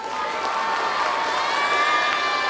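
A crowd at a drugs and women's safety awareness rally in Mumbai claps and cheers together, giving a dense, sustained wash of applause with shouts mixed in.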